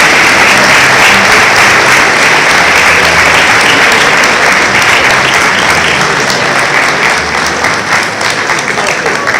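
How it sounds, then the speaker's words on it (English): A live-show audience breaks into loud, dense applause, with continuous clapping filling the whole stretch and no single voice standing out. "Give this young lady a big round of applause"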